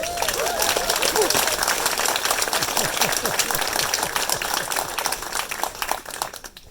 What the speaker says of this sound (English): I think we should give him another round of applause.